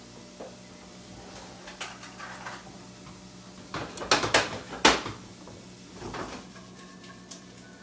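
A kitchen drawer is handled while someone fetches a spoon: a few faint knocks at first, then a cluster of sharp wooden clacks and rattles in the middle, and softer bumps after that, with no talking.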